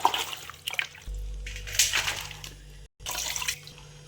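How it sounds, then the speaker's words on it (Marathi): Sliced potato chips are swirled gently by hand in a vessel of water, producing soft, intermittent sloshing and swishing splashes with a brief pause, close and quiet. "ह्या पाण्यामध्ये टाकून मस्त अशा हाताने हलक्या हाताने असे छान फिरवून धुवून घ्यायचे."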